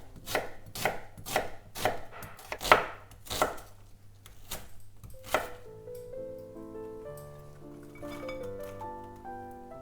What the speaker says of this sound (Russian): Лук я также измельчаю.